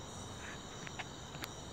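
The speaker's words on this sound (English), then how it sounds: "I'm outside, the crickets are chirping" Crickets chirping outdoors form a faint, steady high-pitched trill across the whole stretch, with a few brief louder chirps standing out and no talking.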